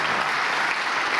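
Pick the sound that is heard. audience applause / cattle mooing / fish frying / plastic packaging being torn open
audience applause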